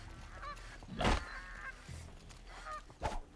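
Geese honk several times within the game Horizon Zero Dawn, loud nasal calls in bursts around the middle and again near the end over a low ambient background, with no talking.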